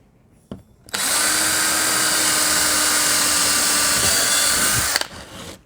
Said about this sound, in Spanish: Cogeríamos un taladro normal, una broca normal de 3 milímetros.